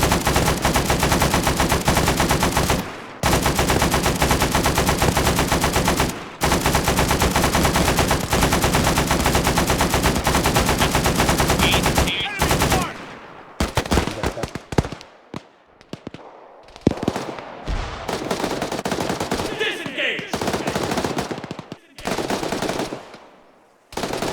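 Sustained automatic machine gun fire in the military game Arma 3, loud and close, with long unbroken bursts that give way to scattered shots and quieter pauses.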